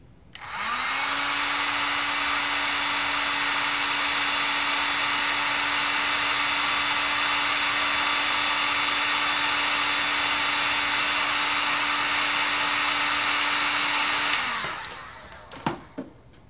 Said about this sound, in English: Now let me apply heat with my Mastercraft heat gun.